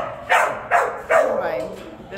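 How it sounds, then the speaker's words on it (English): Excited dogs at an animal shelter in San Antonio, Texas, barking in three quick loud close barks followed by a fading whine. "sorry about all the noise. Anyway. They're just a very excited group of dogs"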